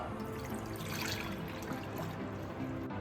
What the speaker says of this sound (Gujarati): હવે આપણે એક બાઉલ લેશું, એમાં છે ને પાણી એડ કરશું